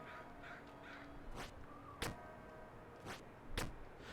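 A bird character in the video game Jump King lets out several harsh, raspy squawks, scattered unevenly over a noisy game background, short and fairly faint.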